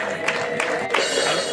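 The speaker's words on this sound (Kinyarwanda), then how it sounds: "Ubwo mwakomye amashyi, nta mpundu mufite." Guests at a wedding clap in a short burst of scattered applause, moderately loud and close, with a murmur of crowd noise underneath.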